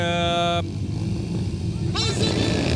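Dirt track motorcycles roar off the start gate together in a women's race, a dense, loud engine drone with a steady high revving tone, briefly joined by rising whines as the pack accelerates; a commentator talks over it.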